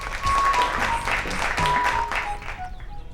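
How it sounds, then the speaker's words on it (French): Applause from a gathered audience at a contest event, a steady crowd clapping with voices and a few tonal sounds mixed in, fading toward the end. "Applaudissements."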